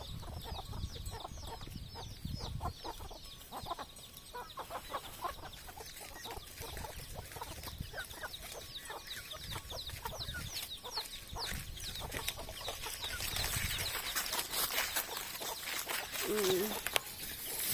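Chickens cluck in a steady stream of short, repeated calls, fairly close, with a busy outdoor background and a brief low animal sound near the end.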